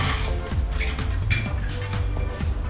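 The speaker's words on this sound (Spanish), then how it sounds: "Luego añadimos más hielito picado" Crushed ice tumbles into a cocktail glass for a Cielo e Infierno drink, a steady close clatter of icy clinks and rattles running without pause.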